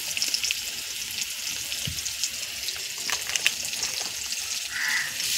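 Chili and turmeric powder fry quietly in a pan for a fish dish, a soft, even sizzle with scattered crackles and faint clinks, close but low in level.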